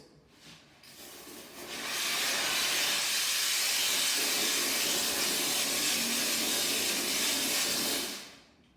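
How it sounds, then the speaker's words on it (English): A McCulloch 1375 steam cleaner gives a loud, steady hiss of steam after a brief quieter start, holds evenly for several seconds, then cuts off abruptly. "inject a wetter steam or more boiling water while you're using the steam cleaner"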